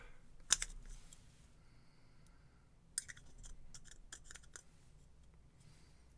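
A plastic shower head part is cut with a tool, giving a sharp snipping crack followed later by a cluster of quieter clicks and snaps, close and otherwise quiet.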